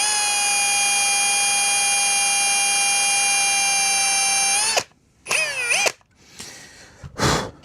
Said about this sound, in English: So what we're doing here is just drilling it out.